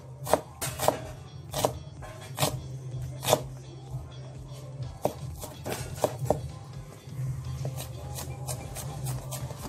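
Knife chopping onion on a cutting board, a series of sharp, irregular taps close by, some in quick bursts and some spaced apart, over a low steady kitchen hum.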